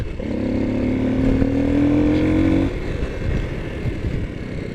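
A Honda CRF250L dual-sport motorcycle riding downhill on a mountain trail, its engine droning loud and close with a rising whine that drops off into rougher rumbling wind and road noise.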